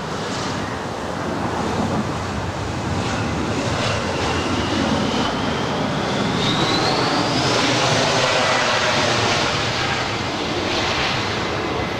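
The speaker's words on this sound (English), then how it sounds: "This is SkyWest 3354 coming in from San Jose." A SkyWest jet arriving from San Jose lands at LAX, its broad roaring rush steady and loud with a faint rising whine threading through, buffeted by wind noise over the full stretch.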